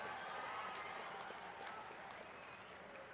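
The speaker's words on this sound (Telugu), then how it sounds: "కార్యకర్తలందరూ కూడా చప్పట్లతోని కేసీఆర్ గుండెలు బలగొట్టాలి" A crowd applauds at a political rally with steady, dense clapping that holds throughout, heard from some distance.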